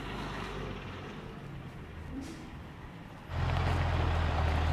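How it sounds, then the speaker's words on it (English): A heavy truck delivering farm equipment rolls in, a low engine rumble that steps up in loudness partway through and holds steady, fairly close with no talk over it. "Uh-oh, Andy, I think I hear a truck rolling in."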